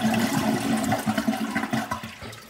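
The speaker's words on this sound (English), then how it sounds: "We have to now flush the water as much as we can." A TOTO toilet flushes up close, a loud rushing surge of water swirling down the bowl that gradually eases off as the tank empties, with no talking.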